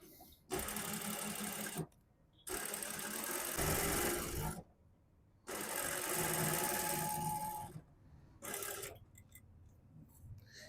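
A sewing machine stitches a suit collar in three long continuous runs with short pauses between, followed by a brief fourth burst; the motor's whirring is loud and close.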